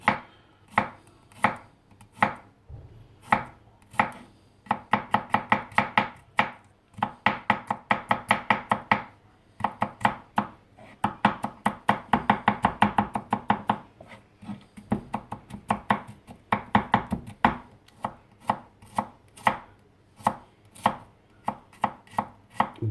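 A knife chops garlic cloves on a board in sharp, close, rhythmic taps, with quick rapid bursts between slower single strikes and short pauses.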